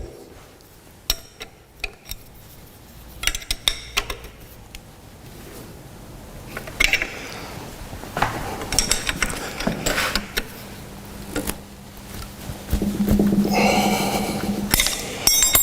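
A bench vise is locked and tightened after being set square. Scattered metallic clanks and clicks build into denser ratcheting and grinding handle turns, close by and moderately loud, with no talk.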